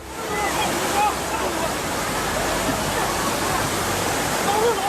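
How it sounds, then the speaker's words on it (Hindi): Floodwater rushes through a street in Zhengzhou after heavy rain, a steady, loud, broadband roar of churning water that continues unbroken and fills the whole scene. "सड़क पर जबरदस्त सैलाब आ चुका है, पानी में लाइन से गाड़ियां फंसी हुई हैं।"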